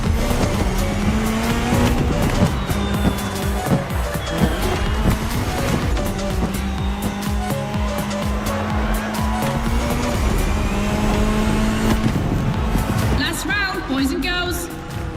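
Rally cars, including a Ford Puma Hybrid Rally 1, racing in the Motorfest driving game, with engines droning and shifting pitch, tyres squealing and skidding, and a brief crash near the end, loud throughout under talk.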